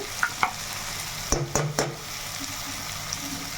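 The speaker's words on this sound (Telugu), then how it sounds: "ఇప్పుడు పచ్చి మసాలా ముద్ద అయితే వేసుకుందామండి" Raw masala paste going into a hot frying pan for a dried prawn, drumstick and tomato curry, giving a steady close sizzle with a few sharp scrapes and clinks of stirring, no voices.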